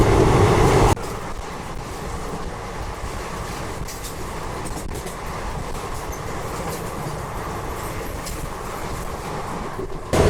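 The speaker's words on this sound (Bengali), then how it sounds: "একটা ট্রেন খুব দ্রুত গতিতে চলে যাচ্ছে" A train rushes past at high speed beside a moving train, heard through an open train door as a loud, continuous roaring rumble with a rattling clatter of wheels that stays strong the whole time.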